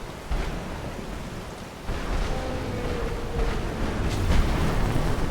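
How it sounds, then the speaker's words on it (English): Rolling thunder from lightning strikes during a storm in the video game Skyrim, a steady rumble with rain-like hiss that swells and grows louder toward the end, with no voices. "Stop getting struck by lightning."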